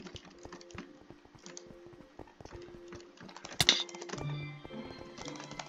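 Rapid mouse clicking during a Minecraft clicks-per-second test, a dense run of quick close taps with a louder burst partway through, no talking.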